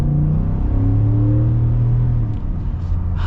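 A Ford F-150 RMT off-road truck's 5.0-liter V8 revs loud and close, its deep rumbling note rising and holding steady for a few seconds before easing slightly.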